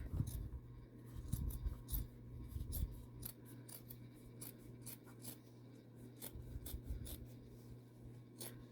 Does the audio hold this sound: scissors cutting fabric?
yes